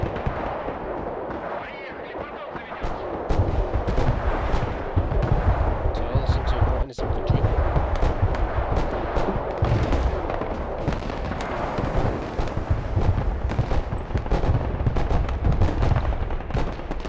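Sustained gunfire aimed at cavalry scouts in the Broken Arrow modern warfare game, a dense crackle of rapid shots and booms mixed with battle noise, people talking over it.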